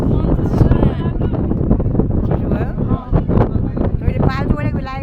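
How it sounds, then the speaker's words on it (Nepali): Strong wind roars and buffets the microphone outdoors near a temple, a loud, continuous broadband rush with brief gusting swells, with voices faintly underneath. "हावा लास्टी लाग्दो रहेछ के"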